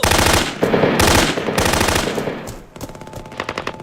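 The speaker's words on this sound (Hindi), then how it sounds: "उस तरफ से फायरिंग हो रही है।" Loud, rapid machine gun fire in a shooting video game, long sustained bursts with brief gaps, then a faster rattling stretch near the end, with no talk.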